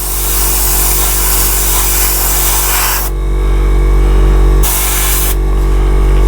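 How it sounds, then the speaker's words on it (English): Airbrush spraying acrylic paint onto a Spitfire Vb scale model kit, a loud steady close-up hiss that cuts off briefly twice, over a constant low compressor hum. "it's an acrylic and it's going on wet, there's really no opportunity for what you're spraying on to hit the model dry"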